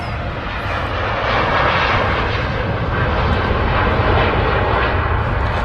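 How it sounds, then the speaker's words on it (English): Boeing 787-10 Dreamliner engines roaring at Manchester Airport, a broad, steady jet rumble heard from a distance and holding constant throughout. "The 787-10 is the biggest of the Dreamliner family."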